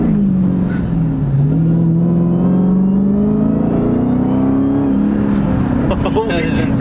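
A Dodge Hellcat pulls hard in a 20 to 60 mph roll, its deep engine droning and rising in pitch up through the gears, heard from inside the car while people talk and exclaim over it.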